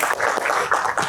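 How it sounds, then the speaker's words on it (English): An audience at a real estate leaders' event applauds speaker Chris Karram with a brief burst of clapping that rises and falls in a few uneven swells. "round of applause for Chris Karram"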